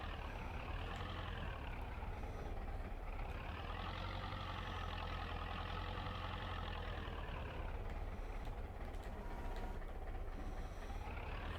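A tractor in Farming Simulator 22 hauls a heavy load, its engine droning steadily and loudly throughout with a deep low rumble and a pitch that rises and falls as the strain changes.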